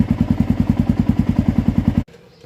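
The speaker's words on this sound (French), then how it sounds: "Moteur allumé." A motorcycle fitted with a Scottoiler automatic chain oiler idles close by with a fast, even putter that stops abruptly near the end.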